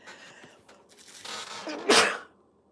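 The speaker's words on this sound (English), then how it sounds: "The sneeze." A single sneeze, building with a short inhale and ending in a sharp burst, close and fairly quiet, with no talking around it.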